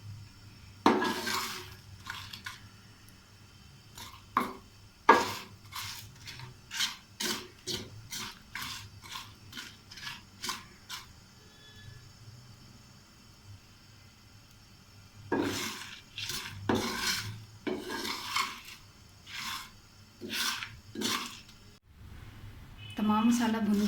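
Whole masala spices for korma and BBQ blends dry-roasted in a pan, a utensil stirring and scraping in bursts of clinks and scratches, pausing briefly and then resuming, close and moderately loud.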